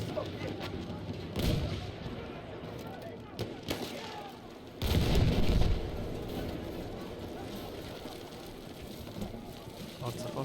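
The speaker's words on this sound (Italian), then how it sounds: "Vediamo se il nostro cannone riesce a fare qualcosa." Cannon fire against a building in the video game Battlefield 1, heavy booming blasts with a big burst near the middle over continuous battle rumble and crackle.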